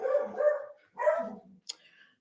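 A dog barks in a few short bursts, close by and fairly loud, with a brief sharp yip near the end and quieter stretches between.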